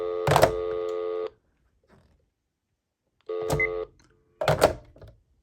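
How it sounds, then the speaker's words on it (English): A cordless phone handset beeps as it is lifted from its base, giving several short sharp electronic tones with clear pauses between them, along with a few clicks of handling. "The handset beeps the moment it's picked up."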